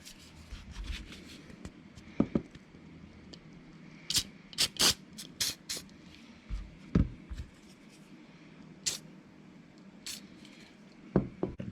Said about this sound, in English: What I like to start with is just give it a spray.